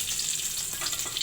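Garlic and onion sizzle and fry steadily in hot mustard oil, a close, continuous crackling hiss with no talking.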